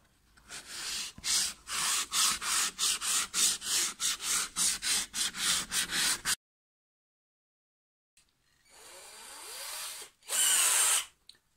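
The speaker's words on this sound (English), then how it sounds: "now just gonna sand this all even" An electric sander works wood around a newly fitted yurt window, buzzing in rapid rhythmic bursts for about six seconds, then a pause and one more loud, close pass.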